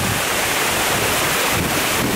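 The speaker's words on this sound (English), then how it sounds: "at the massive waterfall." A massive waterfall in Kauai, reached by kayak, roaring as a loud, constant broadband rush close by, mixed with wind buffeting the microphone.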